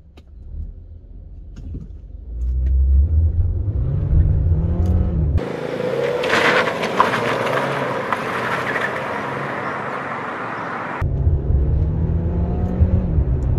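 An automatic transmission car launches without launch control, the engine revving up in a rising, loud low drone, then a roaring burst of acceleration with rushing wind noise, before settling back into a steadier rising engine tone.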